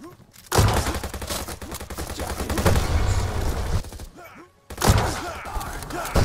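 Gunfire from the Venge.io video game: loud, dense bursts of shots and thumping impacts that run for several seconds, with a brief lull and then more firing.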